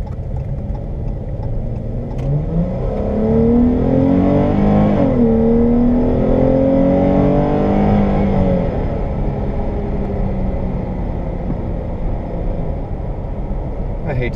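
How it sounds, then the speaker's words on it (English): A 2015 Dodge Challenger engine accelerates in a steady, loud drone from inside the car, its pitch sweeping upward through the gears, then settling into a level cruising hum with road rumble beneath. "stepping on the gas and then having to slow down because I catch up to everybody"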